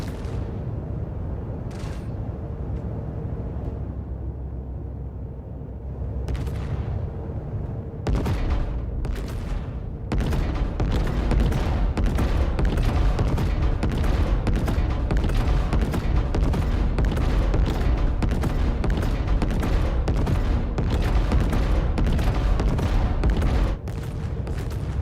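Torpedoes launching during a Star Citizen space battle: a continuous, loud barrage of booming, crackling gunfire-like blasts that thickens after a quieter start and keeps rolling steadily with dense, overlapping impacts.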